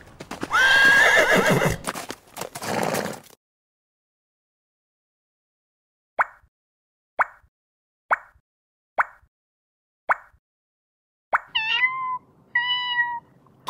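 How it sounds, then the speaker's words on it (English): A horse whinnies loudly in a children's shape puzzle game, then after a pause hooves clip-clop in a steady run of single clops, followed by a short high meow-like call. "Horse."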